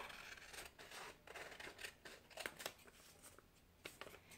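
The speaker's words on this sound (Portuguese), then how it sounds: "E aí, você vai cortar, tá? Você vai cortar a sua saia." Scissors cut through fabric for a skirt made from scrap cloth, a run of crisp, close snips repeated in quick uneven succession, fairly quiet, with no talking.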